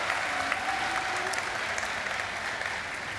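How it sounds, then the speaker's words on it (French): Audience applauding volunteers at an opening ceremony, a steady, fairly distant round of clapping that continues evenly throughout without a break. "on les applaudit bien fort"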